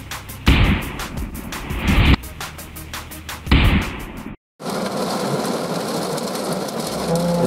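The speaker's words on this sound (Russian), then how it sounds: "Все взрывы произошли, ребят." Big firecrackers set off underground in a burrow blast in heavy thumps, two or three deep bursts with rumbling tails, then a brief cut and a steady rushing roar like rain or smoke venting.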